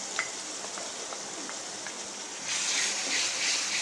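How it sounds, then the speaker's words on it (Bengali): Onion paste frying with sliced onions in a pan, a steady close sizzle with soft stirring scrapes, growing louder and hissier toward the end. "পেঁয়াজের সাথে পেঁয়াজ বাটাটাকেও আরও কিছুক্ষণ একটু ভেজে নেব"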